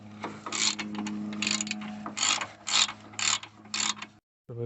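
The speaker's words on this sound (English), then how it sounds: "we're going to open the caliper holder bolts down here." A ratchet works on the 17 mm caliper holder bolts of a car's brake, giving bursts of clicking in a steady rhythm, close and fairly loud, with no talk.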